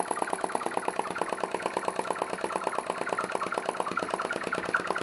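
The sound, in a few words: vacuum (atmospheric) engine running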